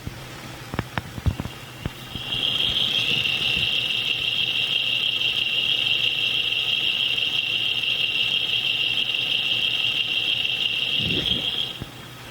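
Car engine running steadily, heard close at the AC bracket on the right-hand side of the engine, with a sustained high-pitched whine or squeal holding for about nine seconds after a few clicks and knocks.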